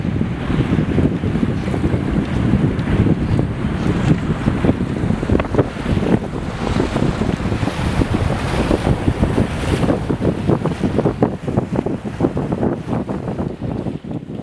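A boat moves across the water in Stockholm, Sweden, with steady engine rumble, splashing water and heavy wind buffeting the microphone throughout, loud and continuous with no talking.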